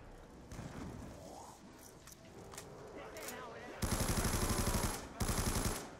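Rapid automatic gunfire from a weapon in Black Ops 2 Zombies on the Mob of the Dead map, heard as two loud sustained bursts late on, after quieter game effects and sounds of play.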